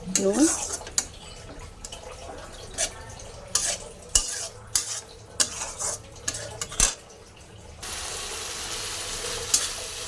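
Ground coriander and cumin masala frying and being stirred in a pan for prawn malai curry, with repeated clinks and scrapes of a spoon against the pot over a constant sizzle.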